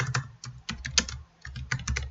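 Keys clatter in quick, uneven bursts as text is typed on a computer keyboard, close and fairly loud, with a short pause midway and no talking.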